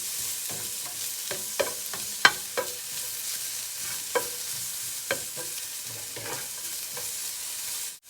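Onions sizzle steadily in a pan for a cheesesteak, a continuous bright hiss broken by sharp clicks and scrapes of stirring, close and fairly quiet throughout.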